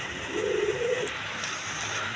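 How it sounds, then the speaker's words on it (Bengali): Koka pigeon pair at a market stall coos once in a soft, low, drawn-out call near the start, then falls quiet over a steady background hiss. "এখানে এক পেয়ার কোকা কবুতর আছে দেখেন ডিম সহ"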